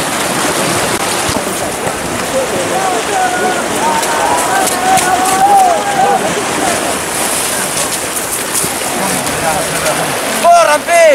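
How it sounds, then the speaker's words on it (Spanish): Water released into an irrigation acequia in Laraos rushes and splashes in a steady, loud wash. Faint voices sound beneath the flow. "esta mañana empezó la largada del agua"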